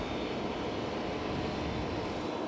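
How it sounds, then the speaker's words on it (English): An aircraft APU running at an airport ramp, drawing air through its open inlet flap: a steady, loud broadband roar and hiss that holds level throughout with no breaks. "The APU is sucking air right through there"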